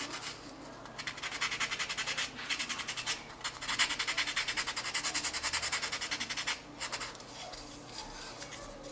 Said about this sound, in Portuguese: lixando o rostinho do Thomas.